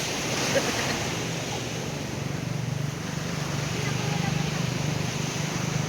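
Steady wash of surf and wind noise, waves rolling continuously with a broad hiss and low rumble throughout.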